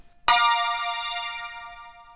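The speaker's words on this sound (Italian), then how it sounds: "Io userò magari un sintetizzatore" A synthesizer lead in GarageBand on iOS sounds one bright, sustained note that starts sharply and fades slowly, heard alone.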